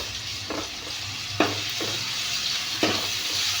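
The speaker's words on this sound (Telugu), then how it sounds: "అల్లం పేస్ట్ మిక్స్ చేసిన తర్వాత చాలా ఘోరగా ఏగే వరకు అలా కలబెడుతూనే ఉండాలి మంచిగా" Ginger paste sizzles and fries in a pan for a village-style liver fry, with a spoon scraping through it in a few distinct strokes over a constant hiss.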